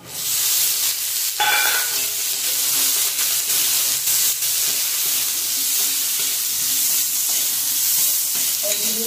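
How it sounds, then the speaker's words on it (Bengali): Green peas and onion frying in a wok give a loud, continuous hissing sizzle with occasional stirring scrapes, close by and steady throughout. "পেঁয়াজটা একটু ভাজা ভাজা করে কড়াইশুঁটিগুলো দিয়ে দেবো"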